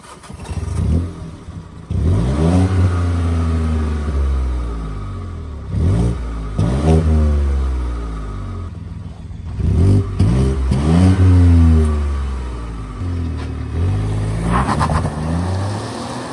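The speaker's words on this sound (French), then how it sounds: "faire un petit test d'accélération. On est sur un 3 cylindres" A small three-cylinder engine in a BMW 1 Series F40 revs up hard through several gears, the pitch climbing and dropping with each shift, loud and close throughout.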